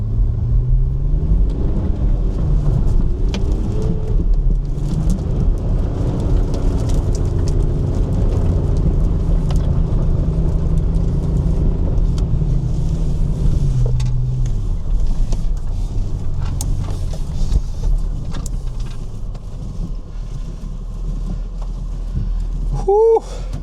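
Range Rover L322 TD6 diesel stuck alone in deep mud, its engine rumbling loud and close with rising revs as it pulls free, a steady heavy drone that eases off near the end.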